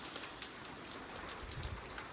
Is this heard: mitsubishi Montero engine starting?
no